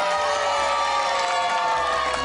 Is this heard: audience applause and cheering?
yes